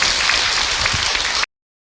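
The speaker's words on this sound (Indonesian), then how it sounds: "Tepuk tangan untuk Abi dan juga Ibu Yoyo ya." Religious lecture audience gives a short burst of dense applause, a steady wash of many hands clapping loudly for about a second and a half before cutting off abruptly into silence.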